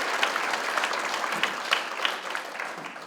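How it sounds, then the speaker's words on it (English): Steady applause fills a community awards gala hall, dense continuous clapping from a crowd with a few sharper claps rising and fading slightly. "I think another round of applause, especially for Taylor and for what you guys do in the community, is terrific"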